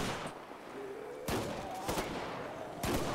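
Gunfire in GTA 5 with a zombie mod, a few sharp separate shots spaced about a second apart over a steady background wash.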